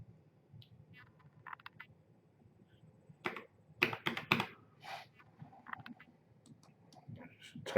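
Sparse, crisp key taps on a computer keyboard as a security verification number is entered, a few isolated clicks followed by a quicker cluster of keystrokes, close and quiet.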